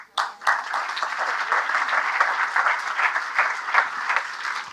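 Sustained applause from a crowd, many hands clapping steadily and fairly loudly throughout.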